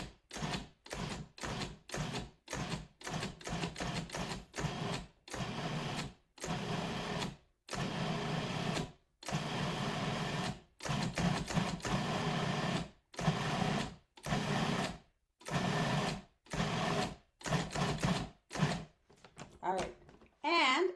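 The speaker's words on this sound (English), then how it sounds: "let's put this here and blend it up. So I'm going to start by pulsing it." A blender pulses oat flour gingerbread cookie dough in a long run of short, loud, even bursts separated by brief silences.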